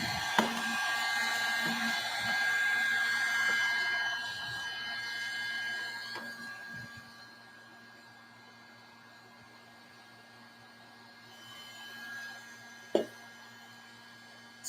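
A heat tool blows hot air onto stiff corrugated pipe to soften it, a steady whooshing fan hiss with a faint tonal whine that runs loud for about six seconds, then drops to a quieter hum with a couple of sharp clicks.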